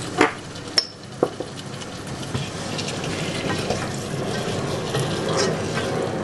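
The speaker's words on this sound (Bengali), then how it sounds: "নেড়ে চেড়ে" A salted tomato and meat curry is stirred in a pot: a few sharp clinks at the start, then a steady wet sizzle and churn of sauce that continues throughout.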